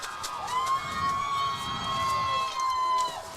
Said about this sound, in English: The Cowboy crowd making some noise now.